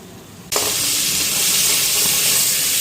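Fish dropped into hot oil in a pan bursts into a loud, steady sizzle after a brief quiet moment, the crackling hiss holding on close and continuous to the end.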